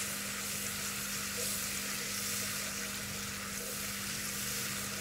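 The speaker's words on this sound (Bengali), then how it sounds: "এই তো ভালো করে নাড়াচাড়া দিয়ে নিচ্ছি।" Steady sizzle of masala frying with cinnamon in a pan, stirred continuously, with a constant hum underneath and no talking, close and even throughout.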